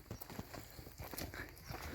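Hooves of a stallion clop on the ground in a quick uneven rhythm as it runs about a small enclosure nearby, with no voices.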